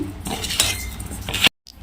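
A spoon stirs mustard powder and fenugreek powder together for a cucumber pickle, making soft scraping and clinking against the bowl for about a second and a half before stopping abruptly.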